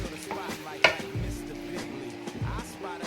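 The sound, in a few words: stirring sauce into Kung Pao chicken in pan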